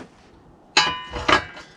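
Metal pin fitted into the shaft of a chainsaw-driven auger, giving two sharp, close metallic clinks a half-second apart over a quiet background.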